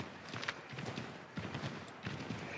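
Hooves of a horse in Assassin's Creed III, stuck among trees in a wooded area, clomping in irregular bursts over a steady ambient game background with scattered sharper knocks.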